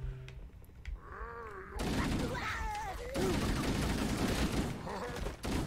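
Gunfire in Halo: Combat Evolved, a sustained loud rattle of automatic shots with clattering game effects, with people talking and reacting over the din.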